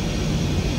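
Aircraft in a flight game bombing sortie, climbing out after takeoff from the runway: a steady, continuous engine drone with broad low rumble, held at even loudness throughout.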